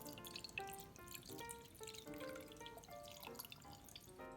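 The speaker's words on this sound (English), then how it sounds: "next step is you're going to add the water" Water pours into a glass mason jar that already holds kitchen cloths, a close, continuous splashing and trickling whose pitch shifts as the jar fills, with no talking.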